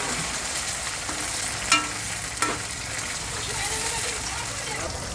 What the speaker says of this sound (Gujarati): હવે અમે નાખીશું અંદર ટામેટાં. જો એને ફ્રાય કરીશું થોડી વાર.